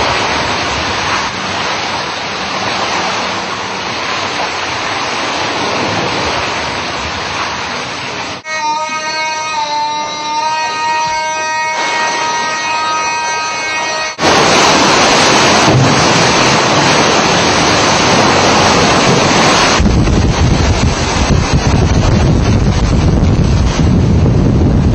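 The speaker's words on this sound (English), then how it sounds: "the surge is dramatically risen here" Storm surge and hurricane wind heard from four stories up, a loud continuous roar of gusting wind buffeting the microphone over crashing surf, growing louder partway through, with no talk.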